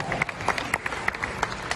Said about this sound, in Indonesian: Silakan tepuk tangan untuk Pak Anies Baswedan